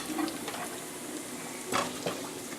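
About a spoonful of cumin seeds, added with whole chillies, sizzling as they roast in a pan, a steady crackling fry with a couple of brief clinks or stirs.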